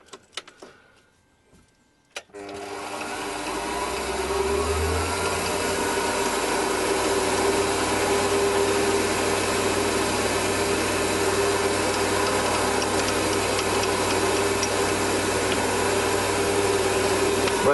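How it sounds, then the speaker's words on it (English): A 1mm drill bit boring through a small metal part for a Webster model engine, a steady close machine whir that starts after a couple of seconds of quiet clicks and runs on without a break. "put the 1mm drill back up and go right through the thing again"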